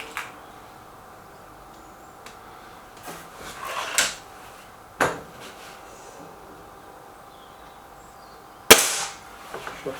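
Gamo Whisper X air rifle shots, a few sharp cracks spaced several seconds apart against a quiet outdoor background, with softer handling clicks between them.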